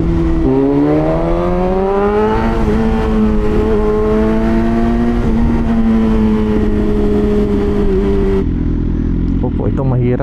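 A BMW S1000RR sport bike with an SC Project exhaust runs close by, its engine droning loudly and steadily with a slight rise in pitch. It cuts off abruptly near the end, and someone speaks faintly under the noise.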